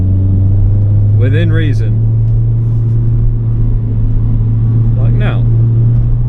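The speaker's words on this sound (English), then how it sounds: "listening to the sound of our own exhaust" A Nissan Silvia S15's exhaust drones as a steady, loud low hum while driving, with someone talking over it in brief bursts.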